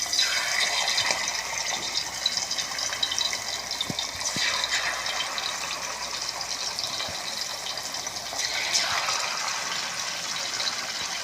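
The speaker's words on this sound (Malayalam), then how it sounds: "നമുക്ക് ഓരോന്ന് മീനങ്ങ് ഇട്ട് കൊടുക്കാം." Fish pieces fry in hot coconut oil with a dense, steady sizzling crackle that runs continuously and fairly loud, close up with no talking.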